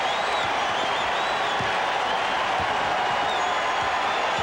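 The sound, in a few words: basketball arena crowd cheering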